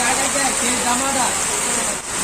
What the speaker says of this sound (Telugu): ఇక్కడ ఫుల్ వర్షం అయితే పడుతుంది